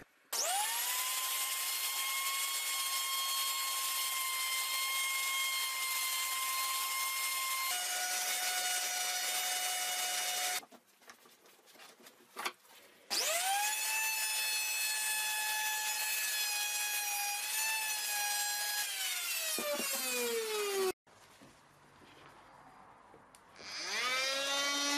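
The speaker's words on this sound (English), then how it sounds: "After sanding all these router bit marks" A high-pitched rotary sander whines steadily against oak, stopping briefly between passes, then starting again and winding down near the end.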